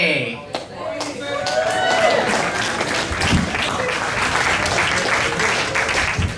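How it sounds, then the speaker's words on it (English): A comedy fest audience gives a sustained round of clapping and crowd noise at a live show, with a host's voice speaking over it near the start. "Give her another round of applause"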